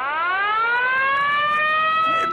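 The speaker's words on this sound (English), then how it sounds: "And all of a sudden, the siren sounds." Warship alarm siren aboard a vessel during a World War II naval battle in the Coral Sea: a loud, continuous rising electronic wail with layered harmonic tones, sustained alone without voices.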